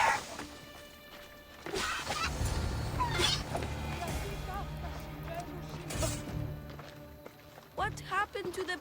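Chickens cluck and squawk in Assassin's Creed Odyssey amid scuffling, running steps and impacts, with short bursts of flapping and a final flurry of squawks, close and mixed with game sounds.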